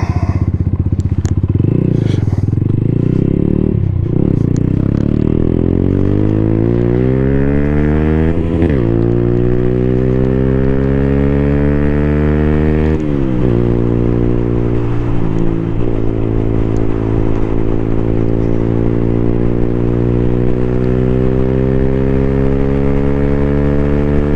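A 2024 Freedom Fighter 200 EFI motorcycle ridden at full throttle on an interstate with hilly stretches, its engine loudly and continuously droning, climbing in pitch through repeated gear changes with brief dips at each shift and heavy wind rush.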